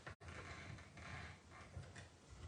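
A hand-cranked die-cutting and embossing machine draws a card plate through, giving a continuous quiet mechanical rumble and creak with small ratcheting clicks, faint and close, with no voices.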